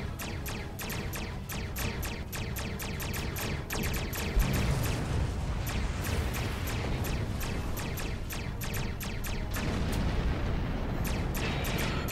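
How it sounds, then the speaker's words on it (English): Continuous rumbling blasts and crackling bursts from exploding starships in Star Trek Online, dense and loud throughout with sharp repeated pops layered over a heavy low roar. "Explosions cause damage. Put some distance between yourself and exploding ships."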